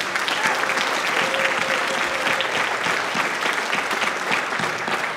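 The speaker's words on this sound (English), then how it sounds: "So let's give them a round of applause too." A crowd claps steadily at a 2018 Arizona Democratic gubernatorial debate, applause filling the whole stretch at an even, fairly loud level without pausing.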